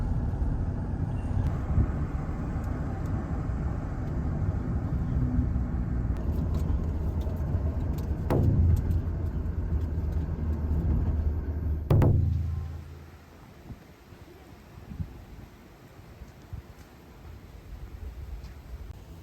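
Steady car engine and road rumble from inside a taxi carrying passengers from a train station toward the Hakushu whisky distillery in Yamanashi, Japan, with a couple of sharp transient thumps before the noise drops to a quieter idle.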